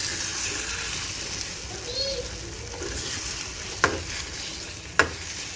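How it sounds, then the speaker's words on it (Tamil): Broken eggs for egg podimas stirred in a hot pan, a continuous sizzle with light scraping and two sharp spatula knocks near the end, a faint voice briefly underneath. "நம்ம இதை நல்லா இப்போ கிளறி விட்டுக்கலாம்"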